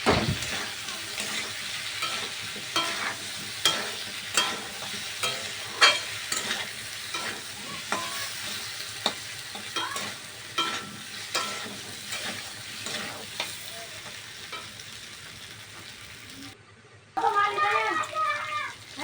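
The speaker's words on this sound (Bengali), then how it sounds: "জিরে গুঁড়ো দিয়ে সব মশলা দিয়ে দেওয়ার পর ভালোভাবে আরও কিছুক্ষণ কষাতে থাকবো" Spices with chili and cumin powder being sautéed in a pan for chicken curry, a steady sizzle broken by repeated spoon scrapes and stirring knocks, with a short pause near the end before louder sizzling resumes.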